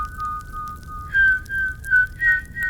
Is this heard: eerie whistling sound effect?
yes